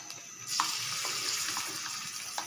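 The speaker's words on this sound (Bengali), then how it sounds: "পেঁয়াজটা একটু তেড়ে তেড়ে ভেজে লালচে বাদামি করে নেব" Chopped onions drop into hot oil in a pan for a Bengali beef and new potato bhuna, setting off a loud, steady sizzle that starts abruptly and holds on without talk.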